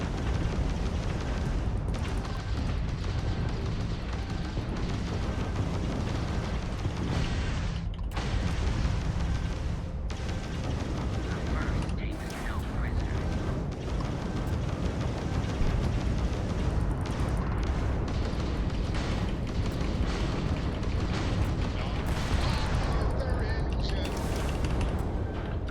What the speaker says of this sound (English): This has been non-stop gunfights.